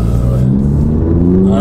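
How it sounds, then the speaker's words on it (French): A 2018 Audi TT quattro with a 230 hp engine blips its revs on a downshift, a loud, close engine note that rises and falls in pitch inside the car. "J'aime bien le retrogradage là"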